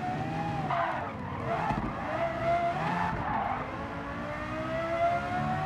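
Lexus LFA racing in Gran Turismo 7, its engine wailing and sweeping up and down in pitch through gear changes, with tire squeal and skidding mixed in, loud and close with no voices.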